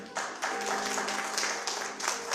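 A church congregation claps in a steady, sustained round of applause, moderately loud and fairly close, continuing through the whole moment.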